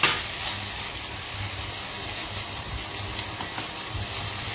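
Ginger and green chili paste hitting hot oil in a pan, a steady bright sizzle with light stirring, close and even throughout.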